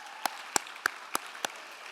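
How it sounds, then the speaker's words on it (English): A handful of sharp, separate claps from an audience at a charity pitch-competition finals, about five evenly spaced slaps over two seconds against a quiet room hum, with no talking. "Yes, round of applause."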